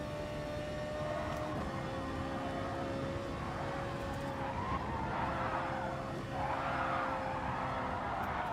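A Renault Megane race car in GT Sport skids with drawn-out tire squeal over a steady engine drone, the screech swelling in the second half.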